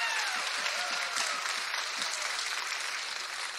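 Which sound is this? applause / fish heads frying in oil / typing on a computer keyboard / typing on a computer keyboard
applause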